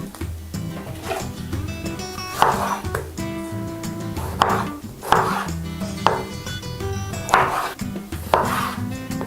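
A knife cuts tomatoes on a board, giving a series of firm, evenly spaced chops close by with clattery knocks in between. No one speaks.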